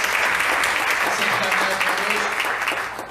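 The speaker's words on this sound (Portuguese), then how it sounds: "Uma salva de palmas na vida deles." A church congregation applauds in a dense, steady burst of clapping that stays loud for about three seconds before tapering slightly, with faint voices mixed in.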